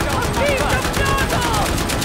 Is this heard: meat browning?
no